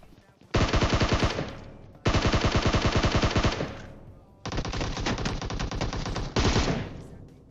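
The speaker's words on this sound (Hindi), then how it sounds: "सारी की सारी गोलियां मेरे अगल बगल से जाती है" Automatic gunfire from a PUBG Mobile match, several long rapid bursts of loud close shots separated by brief pauses.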